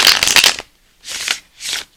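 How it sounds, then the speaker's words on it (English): Tarot cards are shuffled in three bright, papery riffles, a longer close burst followed by two shorter ones after brief pauses. "they're shuffling nicely"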